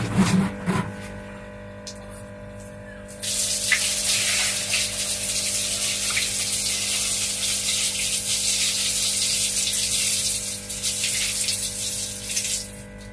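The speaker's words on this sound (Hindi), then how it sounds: "थोड़ा सा पानी निकाल के आप लोगों को दिखा देते हैं।" Water drains and gushes out of a red tub holding desi magur catfish fry at a fish breeding site, a steady loud broadband rush that starts after a short thump and continues alone.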